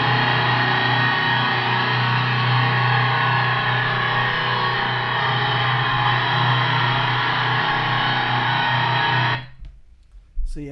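Layered recorded electric guitar takes, captured with ribbon and condenser microphones, played back with reverb: a thick, sustained distorted wall of sound that holds steady and then cuts off abruptly near the end.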